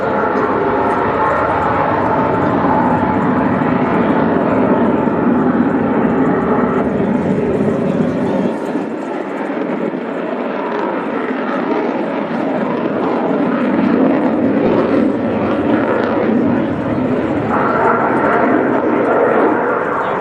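A Czech JAS 39C Gripen fighter jet turns through its air display, a loud continuous roar that rises and falls in pitch as it banks, with the noise dipping partway through and swelling back at a distance.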